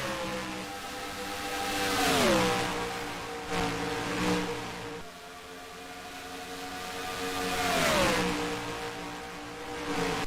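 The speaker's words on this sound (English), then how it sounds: "That 22 does not sound good right now after their earlier contact and damage" Stock car in a HOBO Racing Cup Series race at Texas Motor Speedway, its engine damaged from earlier contact, roars past twice. Each pass swells loudly and then drops in pitch as it moves away.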